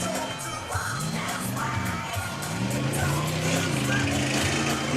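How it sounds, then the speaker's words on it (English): Murmuring crowd noise at a motocross race track, mixed with droning engines and passing vehicles, a dense steady wash of voices and motors with people talking nearby. "you can hear the crowd behind us"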